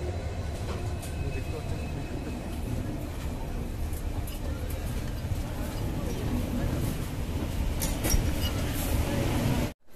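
The 12345 Saraighat Express from Kolkata rolls into Guwahati, its carriages giving a continuous low rumble with light rattles for about ten seconds before the sound cuts off abruptly.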